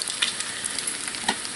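Bacon sizzles and crackles in a pan, a dense, steady frying hiss with a few sharper pops, close up and alone for a brief moment.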